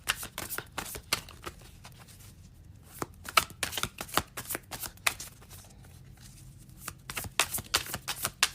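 A tarot deck is shuffled in rapid crisp bursts of riffling and flicking cards, close and fairly loud, with brief pauses between rounds.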